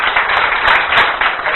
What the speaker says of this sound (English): let's give Dr. Ross a great round of applause